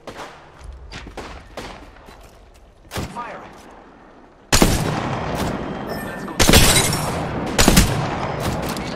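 Gunfire in the video game Apex Legends: scattered shots early, then loud bursts and sustained volleys of automatic fire from about the halfway point, with booming impacts, close and intense.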